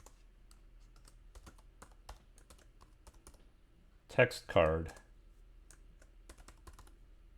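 Soft, scattered keystrokes on a computer keyboard tap away quietly throughout, briefly interrupted by a short burst of speech in the middle.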